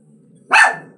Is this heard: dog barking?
yes